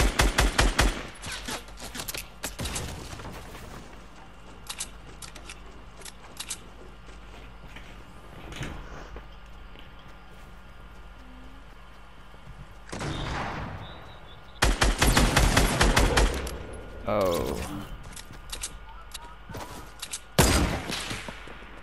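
Gunfire in the video game Fortnite, several rapid bursts of automatic shots separated by quieter gaps, loud and close, with a heavy cluster of firing in the latter half.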